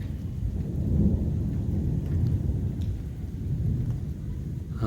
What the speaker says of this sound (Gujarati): વીજળીના બહુ એટલે બહુ કડાકા થાય છે